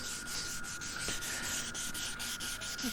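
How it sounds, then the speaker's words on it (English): A plastic headlight on a 2006 Subaru WRX is rubbed with sandpaper in quick, regular back-and-forth strokes, a close, steady scratchy rasp with no voices over it. "it's not going to look perfect after the first sanding"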